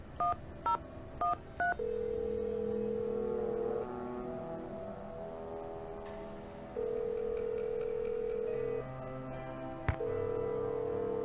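A landline telephone in a Nancy Drew video game plays four quick dialing tones. Long, steady electronic tones follow, with a short click near the end, heard alone and clearly.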